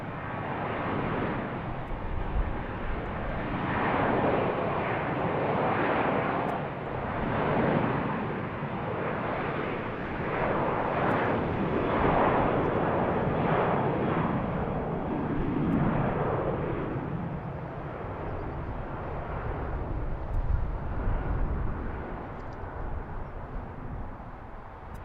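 Airliner departing BWI airport, a loud continuous broadband jet roar that holds steady throughout with slow swells in intensity, heard from outside near the runway.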